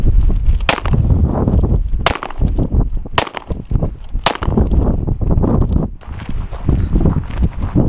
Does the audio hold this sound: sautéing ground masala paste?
no